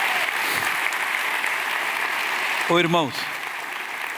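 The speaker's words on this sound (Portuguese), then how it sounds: "Vamos aplaudir a Jesus." A church congregation applauds in a steady, dense wash of clapping throughout, while a voice briefly speaks over it near the end.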